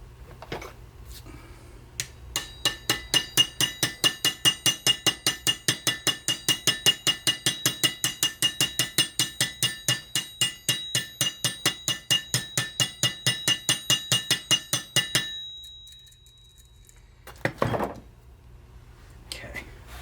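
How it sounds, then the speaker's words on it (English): Rapid, evenly spaced metallic taps ring out for about thirteen seconds as a hammer strikes a bearing onto a Ford tractor 5-speed transmission mainshaft, before stopping, followed by a couple of soft knocks. "I was tapping it on there with the hammer just to see if I could maybe get it to go down"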